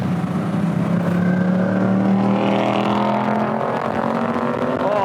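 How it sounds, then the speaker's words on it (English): A Ford Mustang GT's V8 on a racetrack, climbing steadily through the revs in a loud, sustained rising engine tone heard from inside the car, with no talking. "Wow! Listen to that motor, my goodness!"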